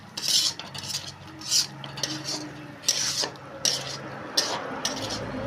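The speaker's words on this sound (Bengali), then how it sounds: "মশলাটাকে ভালো করে কষাতে হবে।" Masala being sautéed in a pot on medium to low flame, stirred with a metal spoon in rhythmic scraping strokes roughly every half second over a low sizzle, close and clear.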